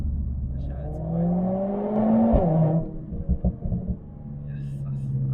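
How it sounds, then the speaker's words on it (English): Mercedes-AMG A45 S hot hatch exhaust under acceleration, a rising engine drone from inside the car that peaks and drops, followed by sharp crackling bursts as the revs fall, with people talking over it. "this exhaust is just mad"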